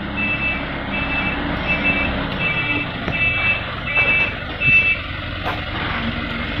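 A dump truck's reversing alarm beeps in a regular repeating pattern while it backs up during loading of fill soil, with diesel engine rumble and site noise underneath.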